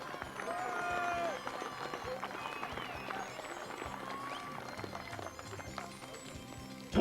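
Crowd applauding BMX rider Jan Novak at a 1992 European Superclass BMX championship round in Echichens, Switzerland, outdoor clapping and cheering at moderate distance, with an announcer speaking over it.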